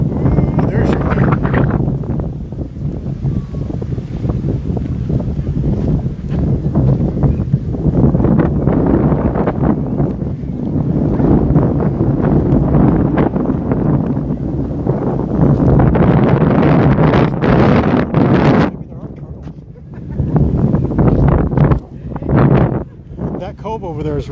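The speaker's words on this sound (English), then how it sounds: "There's your wind." Gusty wind buffets the microphone in loud, roaring bursts during a seaside walk along a waterfront park in Hawaii, briefly easing and then surging again.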